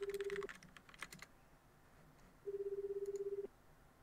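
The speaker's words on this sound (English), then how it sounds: "Out of curiosity, I press the call button." Two steady electronic dial tones from a phone in a video game, a short one at the start and a longer one about a second long after a pause, with faint keypad-like clicks in between.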